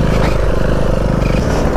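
KTM Duke 390 motorcycle ridden off-road on a rough track: a loud, close, continuous engine drone with a rapid pulsing throb throughout the short stretch.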